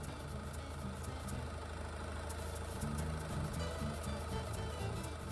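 A Mazda RX-7 FD3S rotary engine idles steadily at close range, a low continuous drone with a rough pulsing texture, while someone speaks briefly over it.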